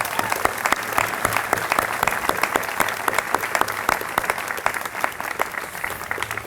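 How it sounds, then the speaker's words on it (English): A crowd applauds at the Sanford School 2024 commencement ceremony, a thick, lively patter of many hands with sharper individual claps popping out, sustained and close throughout. "Let's give Scarlett, Andrew, Quinn, Lane, and Victor our big round of applause."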